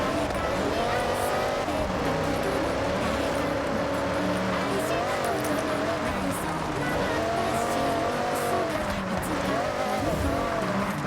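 A racing car laps a track in the Forza Horizon video game, its loud engine rising and falling through gear changes while the tyres squeal and the car slides through corners for several seconds.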